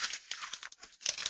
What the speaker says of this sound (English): if you take that dollar bill in your hand and you crumple it up